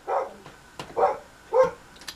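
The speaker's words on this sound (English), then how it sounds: "My dog's barking." A dog barking at home, three or four separate woofs spaced about half a second apart, moderately close and clear against a quiet background.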